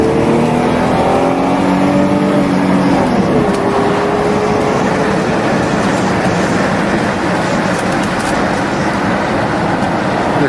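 An Audi Cabriolet A6 Classic convertible with about 70k miles pulls away in gear, its engine droning steadily up through rising tones at first and then holding a constant, close road-and-engine roar.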